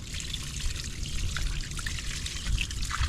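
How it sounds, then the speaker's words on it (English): Water trickles and splashes while the wheel of a wrecked BMW M3 gets scrubbed down, a steady, faint wet wash with small scrubbing clicks throughout. "scrub the wheel down"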